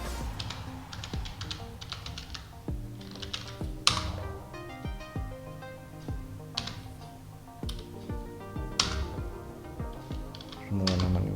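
Keystrokes on a computer keyboard as a MySQL root password is entered, a steady run of light, close clicks in irregular bursts with short pauses, no talking.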